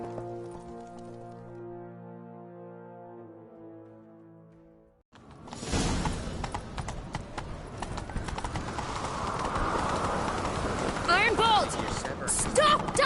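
Horse hooves gallop in a steady, driving clip-clop rhythm in The Witcher 3 on PS5, loud and continuous after a sustained musical tone cuts out, with wind and game ambience beneath.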